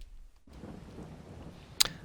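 Rain in Farming Simulator 22 falls as a steady low hiss of a downpour that starts abruptly after near silence, with one sharp bright click or crack near the end.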